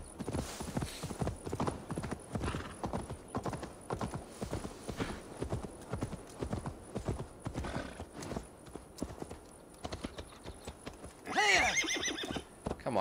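A horse gallops in Assassin's Creed Valhalla, its hooves drumming in a fast, steady clip-clop rhythm close by, ending in a loud whinny.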